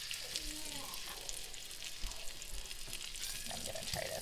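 Butter and oil sizzle steadily in a pan with a continuous bright crackle, with a few soft clinks and faint background sounds mixed in.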